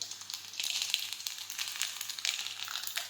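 Garlic, mustard seeds and cumin sizzle and crackle steadily in hot oil, a dense bright hiss with small pops throughout, close and fairly loud, with no voices.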